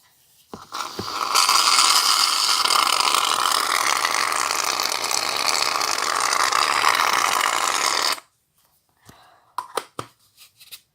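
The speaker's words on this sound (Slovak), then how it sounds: "Teraz tam pridám penu na halenie." Shaving foam jets from a pressurised can for homemade unicorn slime, a steady, loud broadband hiss lasting about seven seconds before cutting off, followed by a few faint clicks and handling taps.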